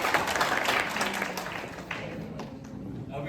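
A handful of people in an audience clap together, a thin, diffuse patter of applause that slowly tapers off.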